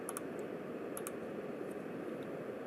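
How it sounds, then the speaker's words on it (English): A few sharp key presses on a computer keyboard, two quick pairs of clicks early and a fainter one later, over a steady low background hum. "I'm pressing the key on the keyboard, any key."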